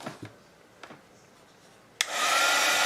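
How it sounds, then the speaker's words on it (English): A heat tool switches on with a sudden broadband rush and blows a steady loud hiss of hot air onto wet cardstock, after a few faint knocks and handling sounds. "I'm going to go ahead and hit this with the heat tool"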